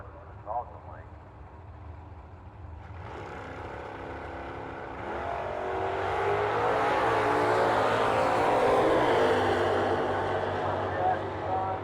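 Drag race run between a 1970 Plymouth Barracuda and a Dodge Dart: engine rumble and crowd noise swell to a loud, sustained roar as the cars launch and pull away, with an announcer speaking early on.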